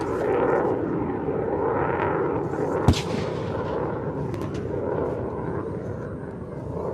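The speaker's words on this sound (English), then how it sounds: "these particular cannons were used during the Vietnam War" A Vietnam War-era cannon fires a single loud boom at an Australian military and civil parade, rising sharply above a steady outdoor rumble of wind and crowd noise.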